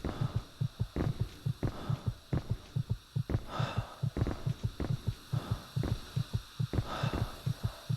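Throbbing heartbeat effect from the game Echo Night: Beyond, a loud steady double-thump pulse repeating evenly over a low droning hum, with no talking.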